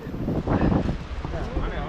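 Wind buffets a microphone outdoors on a hillside temple climb, a loud continuous rumbling roar that swells in the middle, with faint voices mixed underneath.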